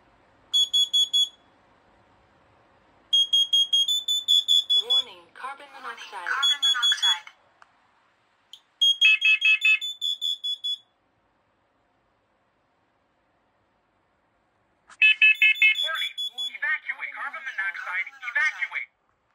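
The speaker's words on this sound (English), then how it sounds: "They're all going to alarm in CO." Several smoke and carbon monoxide alarms mounted together on a demo board sound off in loud bursts of shrill, repeating electronic beeps, overlapping at times and broken by short pauses and a long silent gap.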